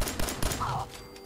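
Gunfire in Fallout 4, a short burst of several sharp shots at the start with a lingering tail, loud and close, no talking over it.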